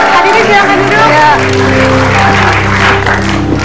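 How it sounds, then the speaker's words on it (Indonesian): Loud, dense applause from a TV talk show studio audience with music playing underneath, continuing steadily without a break. "Luar biasa, tepuk tangan buat Titi Kamal."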